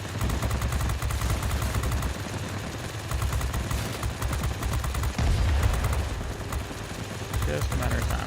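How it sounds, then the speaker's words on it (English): Rapid machine-gun fire from a tail gunner shooting at a plane in World of Warplanes, a continuous rattling burst mixed with engine drone and a voice talking over it. "his tail gunner is going to finish me off"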